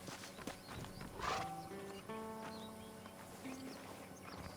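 Horse hooves clip-clopping in the Red Dead Redemption video game, soft rhythmic steps under game music and ambient birds, fairly faint, with no one talking over them.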